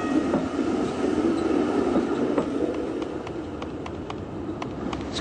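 A tram rolls into a stop with a continuous low rumble and rhythmic clicking of wheels over rail joints, fairly loud and close, easing slightly toward the end, with no voices.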